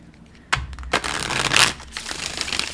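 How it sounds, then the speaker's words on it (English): A deck of tarot cards is loosely shuffled by hand, giving bursts of papery riffling and rustling with brief pauses between them, close and fairly loud, with no voice. "I'm gonna do a couple loose shuffles, okay?"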